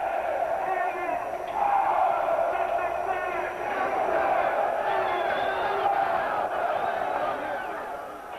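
Rally crowd roaring back at a speaker, loud massed shouting and cheering voices that swell and hold for several seconds, with individual yells rising above the din.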